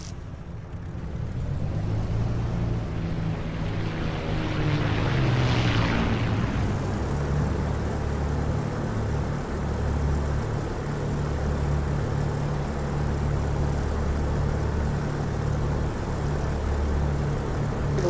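A fixed-wing aircraft taxis in the DCS flight simulator game, a steady droning engine hum with a brief rising whoosh early on, continuous and fairly loud with no talk.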